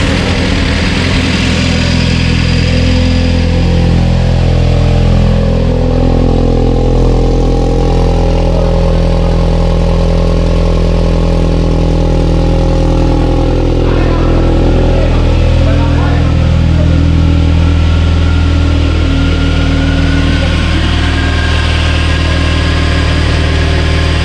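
A loud car engine, a 20vt, runs steadily close by on a test bench, a continuous low rumbling drone with little change in pitch throughout.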